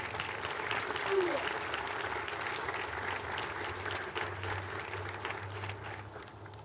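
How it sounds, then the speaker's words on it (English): An audience at the 14th Annual Montford Point Marine Day ceremony gives the official party a sustained round of applause, dense clapping that fades slightly toward the end, with faint talk underneath. "a round of applause for today's official party"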